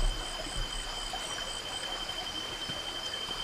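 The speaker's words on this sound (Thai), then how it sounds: "ได้ยินเสียงน้ำไหลด้วย" Stream water flowing beside a campsite on farmland at night, a soft steady rushing wash with a faint high tone running throughout, no voices.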